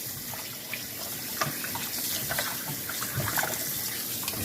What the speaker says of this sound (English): And start rinsing it with some cold water.